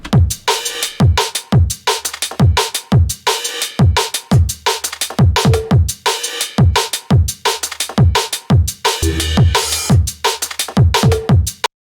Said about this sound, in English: So that's a nice groove, a nice drum loop